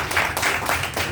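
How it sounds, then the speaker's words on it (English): Students in a classroom clapping for a classmate, a short burst of several claps with a brisk rhythm, fairly close. "Please clap for him."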